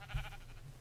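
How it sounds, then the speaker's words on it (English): A single short sheep bleat in Minecraft, a brief wavering cry under a second long, heard alone and fairly quiet. "I have so many sheep, yes."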